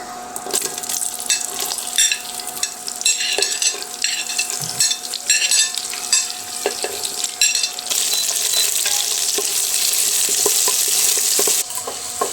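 Tomato, garlic and green chillies sizzle and fry in a pan with steady crackling, stirred now and then with soft scraping and clinks, the frying growing louder and denser partway through.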